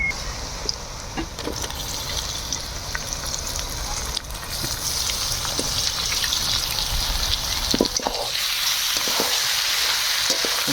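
Goat tripe fries in hot oil with ground spices, giving a steady close sizzle and crackle with occasional stirring scrapes; a voice talks faintly over it in places.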